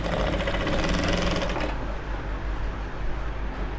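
A sewing machine stitches Ankara fabric for a top, a fast rhythmic mechanical whir close by that runs loud for about a second and a half, then drops to a lower, quieter hum.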